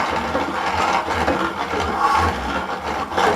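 Hand grain grinder working wet corn for tortillas, a close, continuous rough grinding and scraping with uneven rhythm, moderately loud, no voices.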